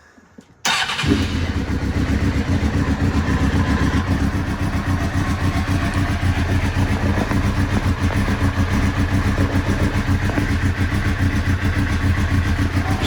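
A 1998 Suzuki GSX-R 600 SRAD motorcycle engine, cold and just refuelled, cranks over and fires after a brief near-silent moment, then settles into a loud, steady running roar close by.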